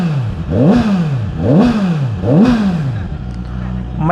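ZXMOTO 500RR motorcycle on a test ride, its engine revving up and dropping back in three repeated swells of rising and falling pitch, close and loud, before settling to a steadier run.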